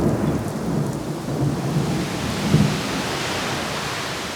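Monsoon rain pours steadily over forest in Cambodia's Phnom Kulen, a dense hiss of falling water with distant thunder rumbling low beneath it and one louder roll partway through.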